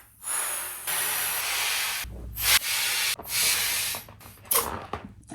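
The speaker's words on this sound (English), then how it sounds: "So you turn on your helium by opening the green tap nozzle all the way." Helium hisses from the green tap nozzle of a tank into a latex balloon in steady, loud bursts. The flow cuts off briefly between pushes, with a few short gaps and squeaky rubbery shifts toward the end.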